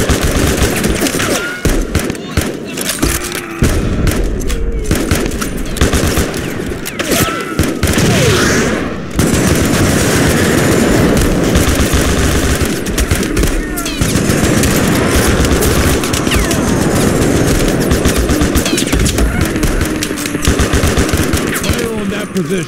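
Gunfire from the Steam war game Mud And Blood, dense overlapping shots and bursts sustained loudly for the whole stretch, with battlefield crashes mixed in and faint voices under the din.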